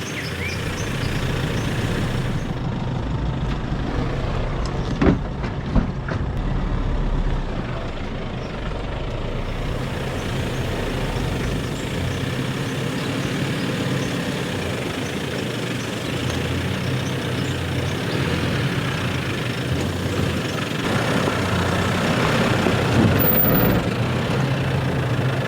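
A 4WD vehicle crawls in low range over a rocky, rutted bush track at Yalwal, Australia. Its engine gives a low, steady labouring drone with occasional knocks and bumps from the terrain, and no one speaks.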